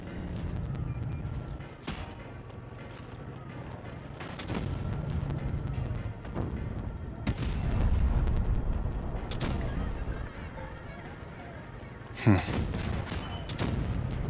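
Tank cannon fire in World of Tanks Blitz, with several sharp booming shots spread across the clip and a loud blast near the end over a low engine rumble, while someone talks.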